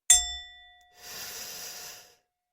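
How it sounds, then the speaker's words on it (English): A single slow, deep breath in and out during a guided relaxation exercise, heard close and soft as a drawn-out airy hiss after a brief chime-like ring at the start, with no talking. "eyes closed, let's inhale. Now exhale."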